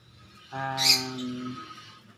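A single short, harmonic squawking call from a lovebird, close and fairly loud, rising and fading over about a second against quiet surroundings.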